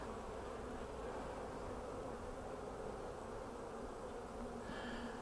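Bees drone continuously around a hive being checked during queen rearing, a dense, even buzz held close throughout without pause.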